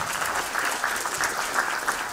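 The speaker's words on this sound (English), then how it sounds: "Give applause." Conference audience applauding steadily at an agile software event in Kaunas, a dense, even patter of many hands clapping throughout, with no talk over it.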